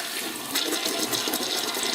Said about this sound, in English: I also went through and flushed the toilets